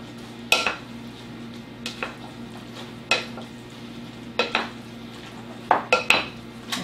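Potatoes and onions seasoned with salt being mixed in a pot for cholent, a run of spoon knocks and scrapes against the pot at irregular intervals over a faint background hum.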